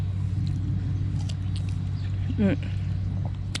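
A steady low mechanical hum from a swimming pool pump drones throughout, with faint outdoor noises and a brief soft rustle over it.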